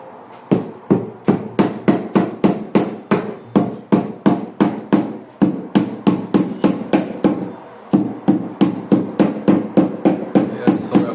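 Repeated sharp impact strikes on tile pieces during bathroom tiling work, a steady rhythm of roughly three to four hits per second with two brief pauses, loud and close with no talking.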